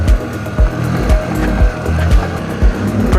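A motorcycle climbing a slippery, rocky hill track on Mount Coree in the Brindabella ranges, the engine droning loud and close with repeated rhythmic thumps and bursts as the wheels hit rocks.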